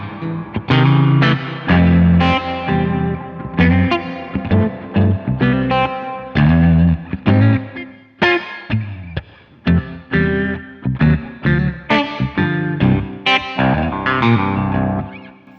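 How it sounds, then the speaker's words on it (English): Distorted electric guitar chords and notes played through a Keeley ZOMA reverb pedal set to long decay, each strum ringing out with a long, washy reverb tail. "setting that longer decay, all you do, hold the reverb down. Longest decay, shortest decay."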